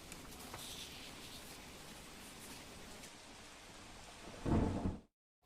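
Heavy monsoon rain pours in a steady wash over a flooded village in Dwarka district, Gujarat, then a deep roll of thunder swells near the end before the sound cuts off.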